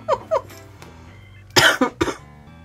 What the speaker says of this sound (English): I might be coughing a little bit